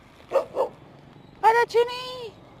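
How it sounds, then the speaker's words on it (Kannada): Neighbourhood stray dogs bark outdoors: two short yips, then after a pause two louder, longer barks with a drawn-out whine, fairly close by. "ಇವೆಲ್ಲ ನಮ್ಮ ಏರಿಯಾ ನಾಯಿಗಳು."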